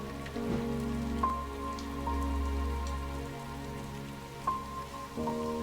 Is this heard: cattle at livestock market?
no